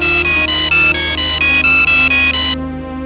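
An incoming call on a phone in a classic television drama, a loud electronic ringtone of short rapid pulses repeating evenly for about two and a half seconds before cutting off.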